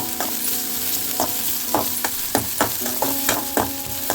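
Onions and garlic sauté in a hot pan for a dried anchovy (nethili) fry, giving a steady close sizzle broken by repeated scrapes and stirs of a spoon against the pan.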